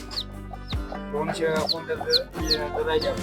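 Hens cluck and chatter close by in short, repeated bursts, with a few sharper calls mixed in and some faint background voices.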